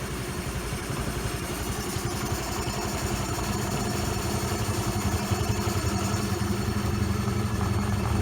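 A Honda Lead SVC-F 100cc scooter engine idles steadily after a valve clearance adjustment, a close, even mechanical putter with light clatter running continuously and alone.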